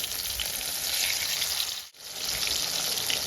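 Papaya slices fry in hot oil and get turned over, giving a steady, close, bright sizzle that dips for an instant mid-flip and then crackles on as before.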